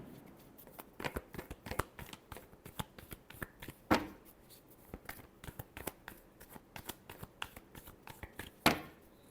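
Tarot cards being shuffled by hand, a quick irregular run of crisp riffles and slaps at close range, with a couple of sharper snaps, quiet overall and without talking.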